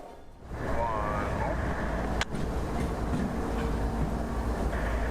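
A CSX locomotive, L700, backs onto its freight train near the 26th Avenue crossing, with a steady loud engine rumble and rolling rail noise, one sharp metallic clank midway, and speech over it.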